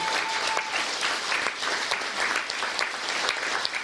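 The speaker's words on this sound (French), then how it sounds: "Je voudrais que vous applaudissiez très fort le cerveau de la bande" A theatre audience claps steadily throughout, a dense, even patter of many hands at moderate distance with a few sharper individual claps standing out.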